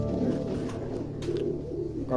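A breeding pair of red and black Lotan pigeons coos softly and repeatedly at close range in a fancy pigeon farm, low rolling calls with little else around.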